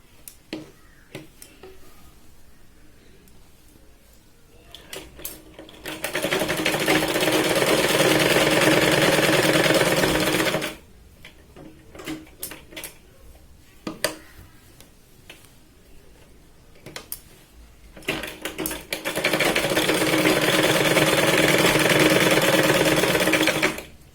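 A sewing machine stitching tucks into fabric for a Katori blouse, two sustained bursts of rapid mechanical clatter a few seconds each, separated by quiet handling of cloth.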